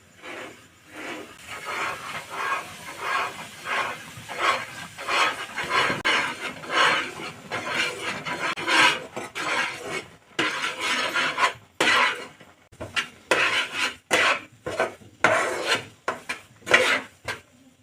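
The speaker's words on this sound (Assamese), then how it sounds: "চুজিখিনি অলপ অলপকৈ দি লাৰি থাকিম।" Semolina stirred into hot milk in a pot at home, a steady run of scraping, rasping strokes with short pauses, fairly close and alone with no talk.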